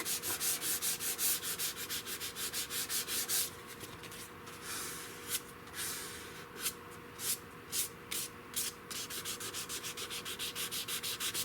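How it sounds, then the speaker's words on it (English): Sandpaper is rubbed by hand along the grain of a wooden shotgun stock on a 16-gauge European guild gun, producing rhythmic back-and-forth scratching strokes, close and steady, slowing into scattered rubs in the middle before resuming a quick even rhythm. "You've only got that much room to sand with the grain"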